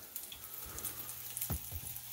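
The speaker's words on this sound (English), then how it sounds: "I think you guys want this view so you can see the sizzling fish up closer." Bluegill fillets pan-frying in hot oil give a faint crackling sizzle close by, with a few sharper pops and spatters breaking through near the middle.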